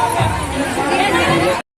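Festival crowd at the Pithora Rath Yatra, a dense, close babble of many overlapping voices that continues steadily before cutting off abruptly.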